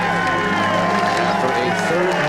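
A golf gallery at the U.S. Open cheers and applauds Rocco Mediate, a steady, dense roar of crowd noise and clapping heard from a distance, with a commentator talking over it.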